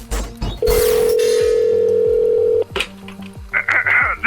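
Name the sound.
payphone dial tone at a petrol station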